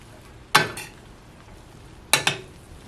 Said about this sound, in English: I'm gonna add it to the pan with the sardines.